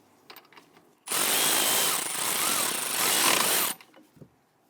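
A power tool snugs down caliper bracket bolts on a 2011-2023 Dodge Charger, firing one loud, close burst of about two and a half seconds before cutting off to near silence.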